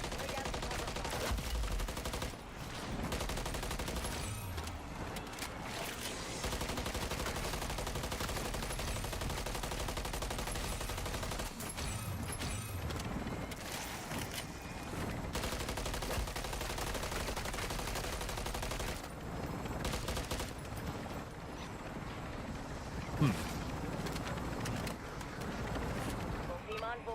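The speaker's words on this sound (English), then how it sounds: "Lay down some cover fire." Gunfire in Modern Warfare Zombies, sustained automatic bursts and scattered shots in a dense, busy mix, with voices talking over the battle throughout.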